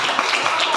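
Classroom applause from a group of eighth-grade students, a steady dense patter of many hands clapping close by, continuous through the short moment with no voices over it.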